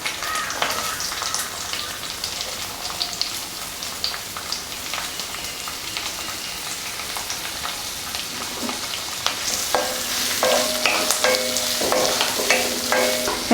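Onions with curry leaves frying in coconut oil for a Tamil coconut fish curry, a steady bright sizzle with occasional stirring scrapes, growing louder and busier toward the end, no voices.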